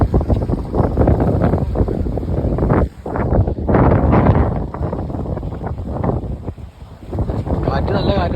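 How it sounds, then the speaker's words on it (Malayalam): Strong wind gusts beside a railway line buffet the microphone in heavy, rumbling bursts with a brief lull midway, while a person talks underneath the roar. "നല്ല കാറ്റുണ്ട് ഇവിടെ."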